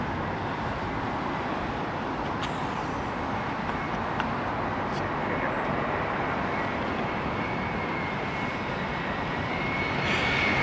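A Qantas airliner lands long on runway 27L at Heathrow, its engines a broad, steady roar that holds loud and close throughout, with a faint high whine rising near the end.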